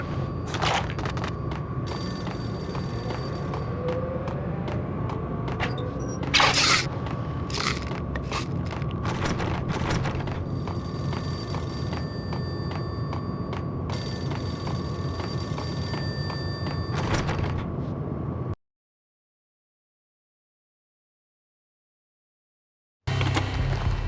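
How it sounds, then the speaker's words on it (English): A payphone rings in the video game Max Payne, with repeated bursts of bright, metallic ringing over a steady bed of background noise and occasional thuds. The sound drops to complete silence for several seconds near the end, then resumes briefly. "The payphone started to ring."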